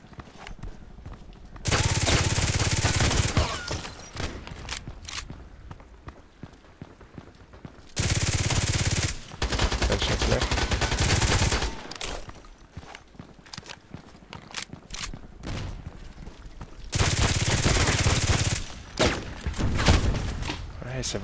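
Automatic gunfire in a video game comes in three loud, sustained bursts of rapid shots, each a second or two long, with footstep-like clatter and a voice talking in the gaps between bursts.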